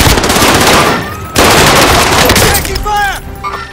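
Rapid machine gun bursts in the Warzone battle royale game, loud and continuous with a brief gap, dense overlapping gunfire with game voices and chatter around it.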